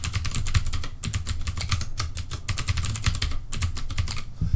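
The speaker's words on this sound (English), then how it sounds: "It's a mechanical keyboard" Rapid clacking keystrokes on a new mechanical keyboard, a steady run of crisp taps in short bursts with brief pauses, close and moderately loud, no speech.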